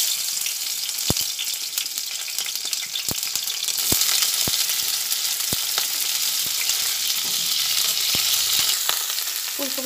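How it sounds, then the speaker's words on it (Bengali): Steamed cauliflower florets sizzle in hot oil in a pan with a steady bright crackle, and a spoon stirs them in sharp periodic scrapes and taps. "তেল দিয়ে যে ফুলকপিগুলো ভাপিয়ে নিলাম সেগুলো ভেজে নিচ্ছি।"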